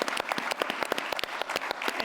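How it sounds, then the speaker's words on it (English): Audience applause for a World War II veteran at a Veterans Day ceremony: a small group clapping nearby, individual claps distinct and uneven, brisk and moderately loud throughout. "So I'd just like to give him a round of applause."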